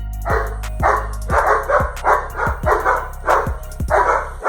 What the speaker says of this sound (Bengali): একটি কুকুর 10টি আলাদা আলাদা রকমের শব্দ বের করতে পারে